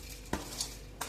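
Edible gum being stirred into a sticky date sweet mixture in a pot, a few soft scraping clinks of the spoon against metal spaced across a short, quiet stretch.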